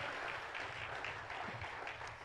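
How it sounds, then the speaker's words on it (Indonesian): A church congregation at a worship service claps in faint, continuous applause, many hands blending into a soft, even wash heard from a distance. "Beri tepuk tangan yang meriah buat Tuhan."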